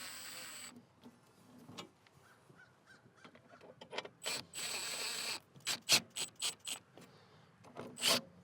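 A ratchet tightens a bolt on a Bobcat T86 track loader, producing close bursts of rapid clicking strokes, sparse at first and then a quick series of sharp ratcheting pulls.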